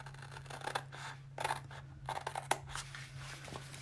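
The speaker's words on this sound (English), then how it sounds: "you can use any scissors you want to cut these" Scissors snip in a few short, crisp bursts, quiet and close, with a faint steady hum underneath.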